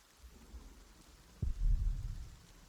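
Rain and thunder in the Pillars of the Earth video game: a steady hiss of rainfall, then a deep, loud thunder rumble swelling about halfway through and rolling on to the end.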